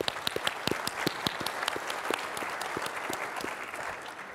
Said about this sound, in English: please join me, round of applause